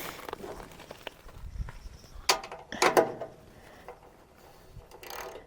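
Metal fitting on a natural gas BBQ being loosened, with a few sharp metallic clicks and scrapes near the middle over quiet handling noise, close and fairly faint.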